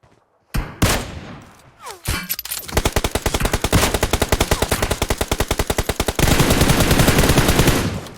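Gunfire in the mobile battle-royale game PUBG Mobile: a few loud, scattered single shots, then a long, rapid automatic burst of evenly spaced rounds, close and sharp, with no talk over it.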